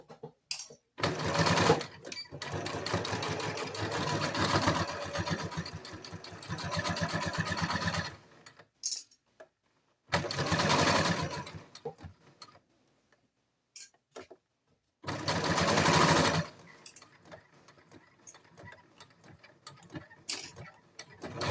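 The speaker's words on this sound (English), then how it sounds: "Take it to your sewing machine. Stitch 5/8 of an inch." A sewing machine runs in three close bursts of rapid, even stitching along a sweatshirt waistband seam, with pauses of near silence and small handling clicks between runs.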